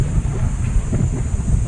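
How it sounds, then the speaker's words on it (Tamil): Strong wind buffeting the microphone on the Puligundu hilltop near a Sivan temple in Chittoor, a loud, continuous low roar and rumble with no pauses. "காத்து வேற சம அடிக்குதா, காத்தே தள்ளுது நம்மள"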